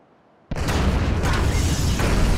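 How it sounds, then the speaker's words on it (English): Firebombs detonated in Grand Theft Auto V burst after a brief quiet moment: one sudden loud blast that settles into a sustained roaring rumble with crackling debris and no speech over it. "All right, trigger the firebombs, Frank."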